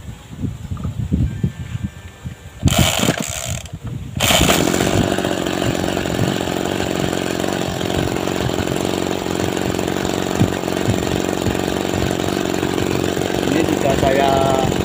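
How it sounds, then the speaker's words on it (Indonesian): The engine of a motorized crop sprayer used on chili plants catches after two brief pulls, then settles into a steady, loud, buzzing run close by. A voice speaks briefly before it starts. "Ini saya mau menyalakan mesinnya dulu."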